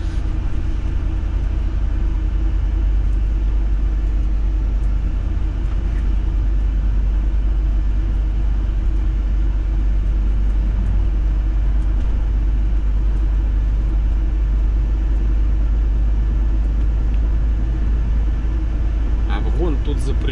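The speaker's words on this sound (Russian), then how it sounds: "Машины вообще не глушатся." Truck engines idle and drive on a frozen winter road, a deep, steady rumble of engine and road noise filling the whole stretch without letup, with a brief sharper sound near the end.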